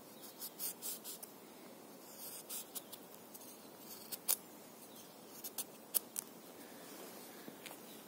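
A sharp knife, one of an MFH, a Kandar or a Cold Steel Leatherneck SF, cuts through material with a run of close scraping, crackling slices and sharp ticks, irregular and fairly quiet.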